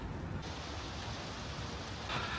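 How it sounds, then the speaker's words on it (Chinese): Rain falling during a flood in Nanning, Guangxi, a steady, dense wash of broadband hiss that stays even and fairly soft throughout, with no talk. "還是不淋雨了，沒帶傘，怕感冒，在這裡躲一下雨。"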